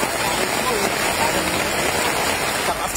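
Heavy rain pours down in a dense, constant roaring hiss with no break, loud and close across the whole stretch.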